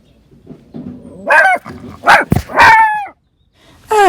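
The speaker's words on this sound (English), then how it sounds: "just seen another dog" A dog barks and yips in a close, loud series of sharp, uneven calls, with a few whimpering notes between the louder barks and no talking over them.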